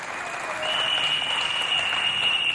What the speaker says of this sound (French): Applaudissez bien fort pour les 6 candidats.